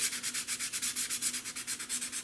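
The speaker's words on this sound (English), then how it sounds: "We take a piece of sandpaper and we just start dragging it across." Sandpaper, 320 grit, rasps back and forth in quick, steady strokes along an edge of tissue covering, a rhythmic rubbing scrape heard up close with no talking.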